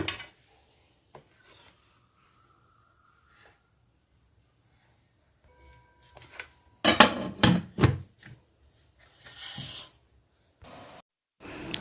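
Oiled metal idli plates are handled and set into a steamer, with soft rubbing at first, then a cluster of close, loud clattering and scraping knocks, followed by a few more short bumps.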